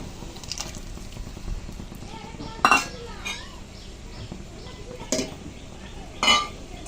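Mustard paste goes into boiling water in a kitchen pot for a steamed eggplant dish, with several sharp metal utensil clinks and taps against the pot over a low background bubble; a voice is faintly present.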